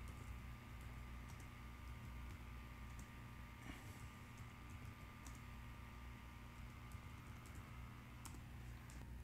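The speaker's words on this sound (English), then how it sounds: "I am going to type the same prompt again." Someone typing a prompt on a computer keyboard, a quiet run of light, irregular key clicks close by over a faint steady room hum, with no talking.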